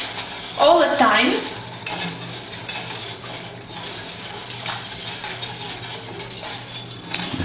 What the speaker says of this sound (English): Now we mix all the time